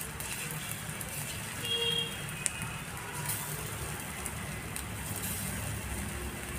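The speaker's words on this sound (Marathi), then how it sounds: "आपण एक एक करून सर्व कारली इथे व्यवस्थित असे फ्राय करून घेणार आहोत, अगदी कमी तेलामध्ये।" Bitter gourd pieces fry in a small amount of oil over a low gas flame, giving a steady, soft, continuous sizzle with faint crackles throughout.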